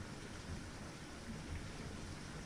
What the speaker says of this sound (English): the rain runs down the glass in slow, wandering rivers